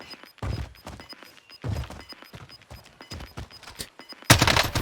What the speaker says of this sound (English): Another volley of shots, but just not enough to kill him.